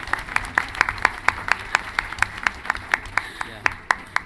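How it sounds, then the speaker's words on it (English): Convention panel audience claps in a quick, even rhythm, crisp hand claps repeating about four times a second at moderate volume over a low background murmur. "Round of applause."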